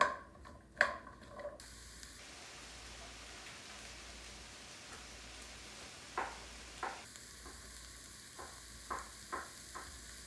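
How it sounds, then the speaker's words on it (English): Vegetables sauté in a tablespoon of light butter for a mushroom soup, giving a soft, faint sizzle. Scattered clinks and scrapes of stirring break through the quiet frying. "now I'm gonna saute the vegetables with 1 tablespoon of light butter"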